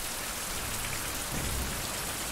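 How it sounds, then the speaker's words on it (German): Rain pours steadily in the survival video game Survival: Fountain of Youth, a dense, even hiss of falling drops with a slightly heavier swell midway. "Ja, natürlich regnet das jetzt wieder."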